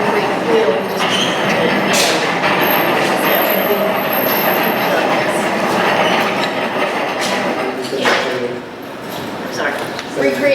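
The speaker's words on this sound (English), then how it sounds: "And the train went over" A train rumbles past continuously at a moderate distance, a steady broadband roar with rail clatter running throughout, behind a board of directors meeting where people are speaking.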